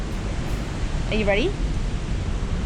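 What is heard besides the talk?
waterfall roaring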